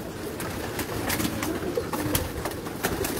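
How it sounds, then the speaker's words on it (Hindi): Pigeons coo softly on a rooftop, several low rolling calls overlapping in a loose rhythm against a constant outdoor hiss with faint scattered clicks and flutters. "दोस्तों देख सकते हैं जो अक्सरियत में कबूतर हैं"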